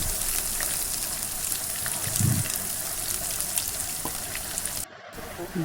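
Chopped onions fry with cinnamon and cardamom in a pan for a village-style duck meat curry made with ground spice paste, giving a constant close hiss of sizzling oil, with a brief dropout near the end.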